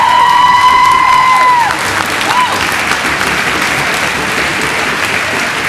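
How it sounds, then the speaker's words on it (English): A school spring orchestra concert crowd claps for two senior soloists, loud and sustained, while a lingering high sustained tone fades out in the first moments and a few cheers rise through the clapping. "another round of applause for our two senior soloists, Liana Powell and William Klein"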